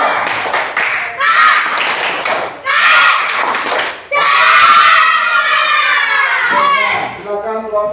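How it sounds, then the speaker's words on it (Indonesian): A classroom of children does a rhythmic group clap, with quick sharp claps near the start followed by loud, excited shouting voices that fill the rest of the clip. "Coba ya sekali lagi tepuk semangat"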